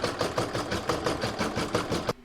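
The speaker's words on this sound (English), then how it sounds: "I'm now going to pop that in my machine and stitch round number" An embroidery machine stitches an in-the-hoop Christmas placemat, making a steady rhythmic needle pulse of even repeating beats, close and alone, stopping abruptly at the end.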